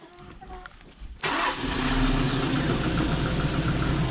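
A tractor engine cranks and catches, then settles into a loud, steady rumbling idle close by after a quieter moment.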